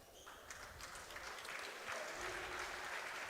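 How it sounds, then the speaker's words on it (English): Spectators applaud at a 15U boys basketball bronze medal game, a soft, distant, steady patter of clapping across the gym as an injured player gets to his feet. "To a nice round of applause for those spectating."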